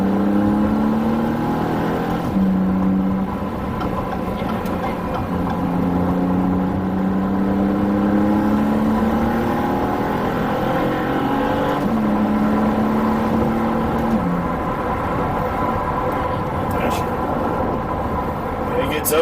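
Maserati MC20 sports car engine pulling under light throttle from inside the cabin, a loud continuous drone with rising and falling gear-change sweeps, and people talking over it throughout.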